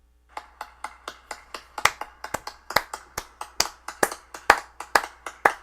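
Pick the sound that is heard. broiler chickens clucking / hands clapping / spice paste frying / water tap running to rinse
hands clapping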